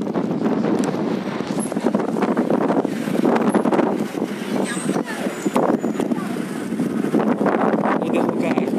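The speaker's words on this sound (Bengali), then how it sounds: "আসলে অনেক বাতাস" Strong gusting wind buffeting the microphone on Tower Bridge in London, a loud continuous roar with fluctuating gusts, and voices talking underneath.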